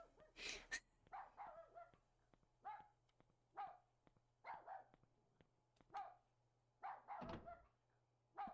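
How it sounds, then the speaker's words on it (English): A dog barks in the video game Rule of Rose: a steady series of short, evenly spaced barks, quiet and slightly distant, repeating about once a second with no talking. "I've been listening to that bark for a while."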